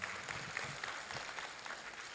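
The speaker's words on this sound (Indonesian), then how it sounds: "Tepuk tangan dulu untuk adik-adik semuanya." Applause from an audience for students at a youth keynote event rises as a brief, fairly faint patter of clapping, steady and diffuse across the room for a couple of seconds.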